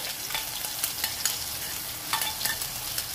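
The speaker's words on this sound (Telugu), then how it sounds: "మంచిగా ఇట్లా ఆయిల్లో కలిసిపోవాలి, అది మంచిగా కలుపుకోవాలి." Onion paste fries in oil for a paneer tomato curry, stirred steadily with a constant close hiss and soft scraping strokes of the spoon, alone without voices.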